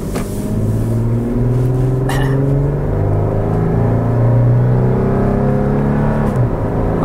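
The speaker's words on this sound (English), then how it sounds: "You know, the V6 engine pulls pretty good." A 2017 Toyota 4Runner TRD Pro's V6 engine accelerates from inside the cabin, a steady loud drone with rising harmonics as revs climb, continuous and without talk.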